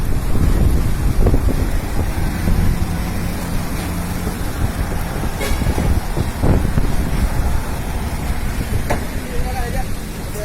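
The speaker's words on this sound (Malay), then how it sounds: "Bahaya angin tu." Strong gusting wind from a whirlwind in Banda Aceh roars and buffets the microphone steadily throughout, with brief knocks and rattles and people talking faintly in the background.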